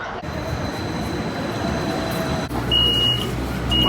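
A light rail train in Addis Ababa, Ethiopia, rumbles steadily from inside, with a continuous low roar and a thin high whine appearing toward the end.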